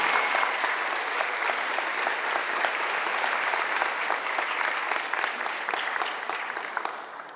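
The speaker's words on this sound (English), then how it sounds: "Please join me in a round of applause for Elise Manus." At a middle school awards event, a steady round of audience applause for an honoured student carries on evenly before tapering off at the end.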